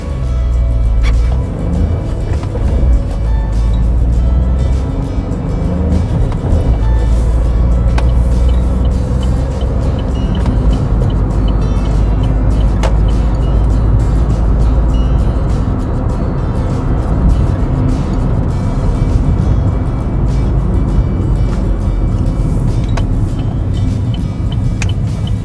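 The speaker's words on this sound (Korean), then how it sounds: "자, 다시 엑셀 출발." A manual-transmission gasoline car pulls away on the accelerator, its engine rumbling steadily and close for the whole stretch, with no speech over it.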